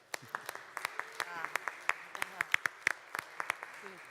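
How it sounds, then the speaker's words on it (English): A small group claps in scattered, uneven bursts, fairly close, with some chatter and a few voices in the background, at the MWC 2018 trade show. "give a big round of applause for the Taiwan team"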